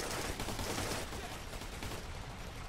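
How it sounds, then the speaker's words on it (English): Rapid rifle fire in the military shooter Operation Flashpoint: Red River, a faint but steady crackle of shots running throughout with no talk over it. "I was just trying to shoot him through the wall there"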